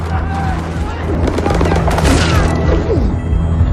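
Loud, rapid bursts of gunfire in a film scene with heavy booming impacts and crashes, continuous and close throughout.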